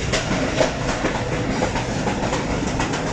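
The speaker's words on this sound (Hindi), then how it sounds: "और अब ट्रेन लेफ़्ट टर्न लेगी" The Fareed Express, a private passenger train, rolling on the rails in the rain. A steady, loud rumble carries a rhythmic clickety-clack of the wheels, heard from aboard the train, with no talking.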